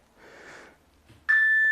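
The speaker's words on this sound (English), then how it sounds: "ignore the timer" An electronic workout interval timer lets out a single loud, sustained steady beep that starts abruptly and holds to the end, following a stretch of soft breathing during an at-home Pilates and HIIT session.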